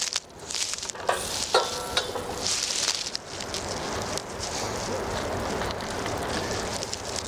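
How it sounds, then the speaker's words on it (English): Chiles morita sizzle in oil and butter in a pot at a campsite, a steady close frying hiss with a few clinks and stirring scrapes early on. "We will bring our chiles to the stove, and we're gonna cook them in a little bit of oil and butter"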